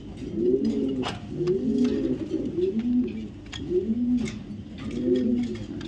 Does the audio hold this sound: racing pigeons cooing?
yes